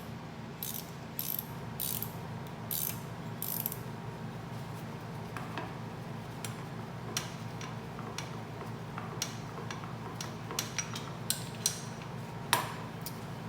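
A hand ratchet loosening the exhaust valve cap on a dirt bike engine, giving quiet repeated clicking strokes in irregular bursts over a low background hum.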